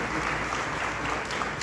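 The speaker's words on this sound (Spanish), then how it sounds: "denle un aplauso fuerte al Señor." A church congregation breaks into loud, dense applause, sustained and steady from start to finish with no pause or voices standing out.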